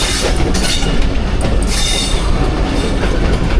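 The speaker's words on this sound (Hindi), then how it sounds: "अब मेन लाइन पे डाइवर्ट होगी हमारी ट्रेन" Jaffar Express passenger train rolling from a loop line onto the main line, a loud continuous rumble of wheels with rhythmic clickety-clack over the rail joints and brief high wheel squeals, heard from on board.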